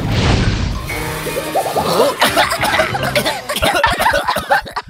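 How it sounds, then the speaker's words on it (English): A sudden crash gives way to a cartoon robot's rough, rasping coughs in a rapid stuttering series, close and loud, with a throaty, mechanical edge. "Why is the robot coughing?"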